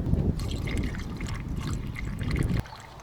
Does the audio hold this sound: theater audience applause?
no